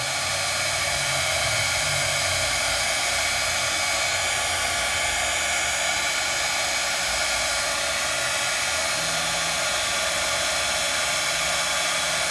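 A handheld heat tool blows steadily for the whole stretch, drying craft ink with a loud, even whoosh of hot air and no break or talk.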